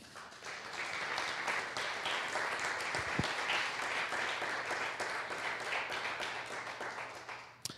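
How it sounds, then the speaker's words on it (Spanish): A church congregation applauds the Lord during an evening service, a dense, steady wash of many hands clapping together for several seconds before tapering off at the end. "Dale un aplauso al Señor"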